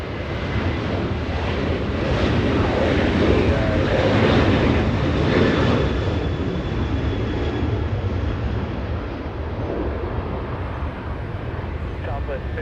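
Southwest Airlines jet airliner at Los Angeles International Airport, a steady loud broadband engine roar that swells around the middle and eases slightly toward the end, heard continuously with no pauses.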